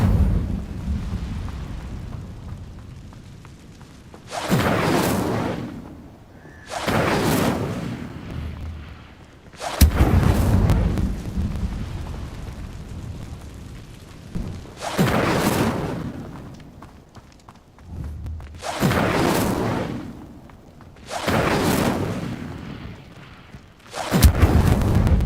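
Incendio fire spell cast repeatedly in the video game Hogwarts Legacy, each cast a loud whooshing burst of flame, about seven in sequence separated by brief lulls filled with low rumbling.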